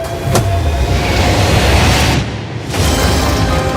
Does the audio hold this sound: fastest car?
yes